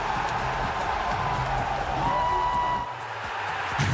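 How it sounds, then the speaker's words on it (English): A large esports arena crowd at the Rocket League World Championship cheers in a steady, loud roar that dips briefly near the end. "the crowd erupting behind him"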